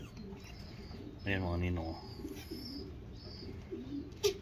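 Pigeons in a loft give a brief burst of soft cooing, moderately close, with a voice talking before and after it.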